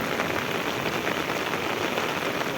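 Heavy rain pours steadily over a village in Vejalka, a dense, continuous hiss of drops striking surfaces with no break and no voices.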